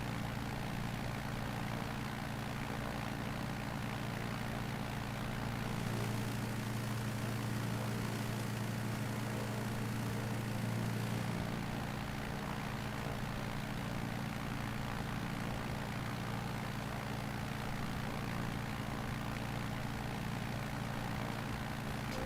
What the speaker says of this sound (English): a multi-engine prop Warbird, and it was the United States' first specifically designed night fighter